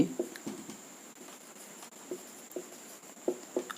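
Writing on a board in a classroom, a series of short, dry taps and strokes close by, irregular and fairly faint over a quiet room hum.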